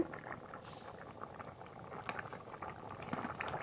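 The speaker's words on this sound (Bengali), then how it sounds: "এবার খুব ভালো করে জাল দিয়ে নেব।" A pot of paneer masala curry boils steadily, with dense bubbling and soft popping at moderate volume throughout, no talk.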